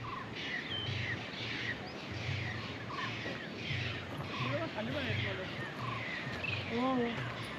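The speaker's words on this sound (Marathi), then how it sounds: "पक्ष्यांचे आवाज येतात बघा." Birds calling near roadside tea plantations on a hill road between Ooty and Munnar, scattered chirps and calls rising through a steady outdoor hum, with a few clearer call bursts late on and speech nearby.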